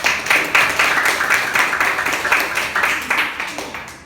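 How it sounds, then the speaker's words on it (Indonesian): A classroom of students applauds after a group presentation, steady rhythmic clapping from many hands filling the room, close and fairly loud, fading slightly toward the end. "silakan tepuk tangan untuk"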